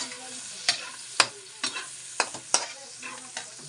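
Carrots sautéed in a pan for pansit, with a steady soft sizzle broken by sharp scraping stirs at irregular intervals, close and alone.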